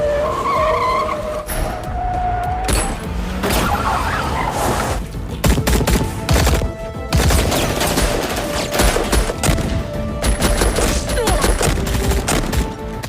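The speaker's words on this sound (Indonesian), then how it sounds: "Baku tembak pun tak terhindarkan." Gunfire shootout scene from an Indian gangster film: tyres screech, then bursts of rapid shots and impacts crowd a dense, loud mix of film music and effects.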